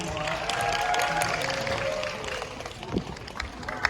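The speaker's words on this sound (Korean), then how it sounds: "큰 박수 부탁드리겠습니다" Cinema audience in a Lotte Cinema Superplex auditorium at World Tower applauding during a stage greeting by the cast and director, a dense mid-level wash of clapping with crowd murmur that thins toward the end.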